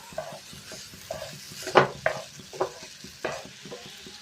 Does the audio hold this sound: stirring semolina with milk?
yes